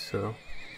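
A Przewalski's wild horse in the Zoo Tycoon game gives a short, rough whinny near the start, brief and fairly close, with someone speaking over the game sounds.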